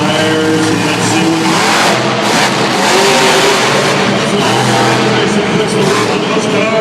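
A monster truck with a 572 cubic inch engine roars loudly across an arena at a monster truck nationals event, its engine blaring continuously under an announcer and crowd noise.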